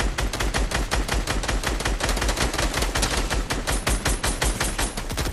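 Rapid, loud gunfire from a video game shooter, a steady stream of close automatic shots that keeps going without pause throughout.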